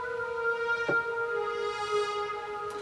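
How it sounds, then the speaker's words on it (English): A synth melody from a hip-hop beat's hook plays alone as steady sustained tones with a bright attack near the start and a soft swell, clean and dry without drums. "the synth sounds like this"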